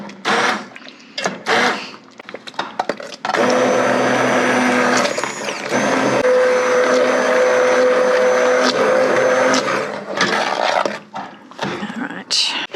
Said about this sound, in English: we're going to blend this up. Start by hitting those potatoes.